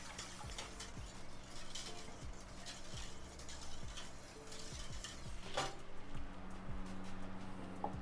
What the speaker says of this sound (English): Stir our cream as it's heating up back here